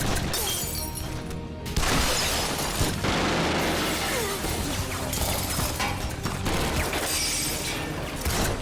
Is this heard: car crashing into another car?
yes